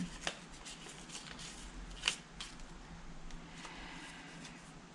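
Paper envelope or greeting card from viewer mail being handled and opened nearby, with quiet rustling and a couple of sharp crinkles over low room noise.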